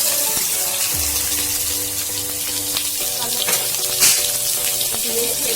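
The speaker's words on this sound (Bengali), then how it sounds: "এটাকে একটু হালকা করে নেড়ে হালকা ফ্রাই করবো" Ingredients for gola kabab hitting hot mustard oil in a kadai, a steady, dense sizzle and crackle filling the whole stretch with a brief louder flare midway, close and continuous, no talk over it.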